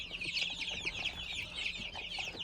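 A flock of 22-day-old chicks raised on starter feed peeps continuously, with dense overlapping high chirps close by and faint low clucks underneath.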